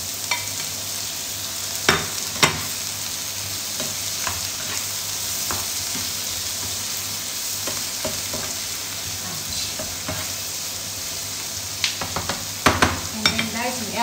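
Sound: prawns sizzling while frying in a pan

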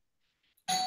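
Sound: doorbell ringing

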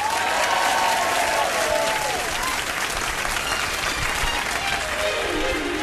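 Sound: audience applause welcoming the Rat Pack Live act

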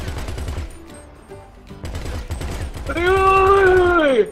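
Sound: gunfire in the video game GTA V

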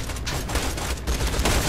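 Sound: shotgun gunfire in video game Borderlands 2

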